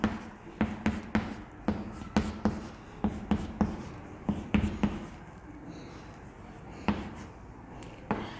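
Numbers written by hand on a board during a maths lesson: a rapid series of sharp taps and scratchy strokes in uneven bursts, close and clear, with no talk.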